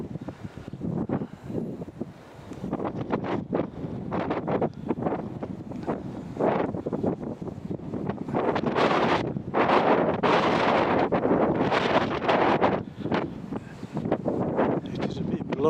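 Gusty wind buffets the microphone outdoors beside a stone monument in the Yorkshire countryside, coming in loud irregular bursts that intensify toward the middle, with no clear speech.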